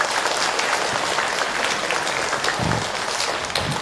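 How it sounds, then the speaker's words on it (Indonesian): An audience at a religious talk breaks into steady, dense applause, loud and sustained throughout with no pause. "Tepuk tangan buat kita semua."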